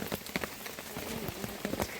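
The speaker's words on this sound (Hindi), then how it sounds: "जैसे ही हम लोग यहाँ पर पहुंचे, यहाँ पे लग गई भयानक वाली बारिश।" Heavy rain pours onto umbrellas in a mountain village, a dense, steady hiss of drops with sharper patters, fairly close and without any voices.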